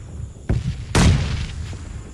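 Two explosions in the mobile game PUBG Mobile: a short boom, then a louder, fuller blast about half a second later that rumbles and fades out.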